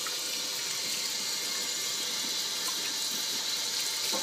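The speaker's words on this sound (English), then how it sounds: "It's very important to wash your hands at all times." Hands being washed under a running kitchen tap, a steady, close, full rush of water pouring into a sink without a break, with no talking.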